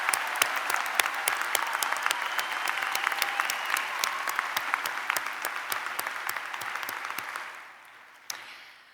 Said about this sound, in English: Can we give them an applause, please?